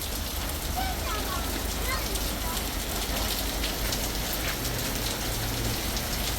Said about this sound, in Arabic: ومطر قوي، يعني مو شوي، قوي كتير.